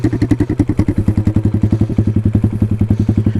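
A Chinese pit bike with a straight-piped exhaust runs loud and close, firing in a rapid, even popping rhythm of sharp exhaust bursts with a slight sputter.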